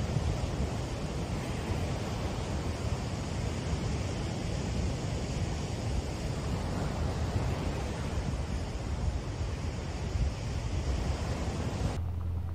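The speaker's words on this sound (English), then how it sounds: "Beautiful time to walk along the shore while enjoying the light morning breeze" Waves wash steadily onto a shore under a light morning breeze, a continuous soft rush of surf mixed with wind buffeting the microphone, with no voices.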